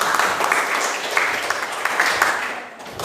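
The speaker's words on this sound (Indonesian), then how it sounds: "Oke, aplaus dulu buat Samsul." Classroom applause for a student, a steady mass of hand claps sustained for about three seconds, fairly loud and close, with scattered voices mixed in.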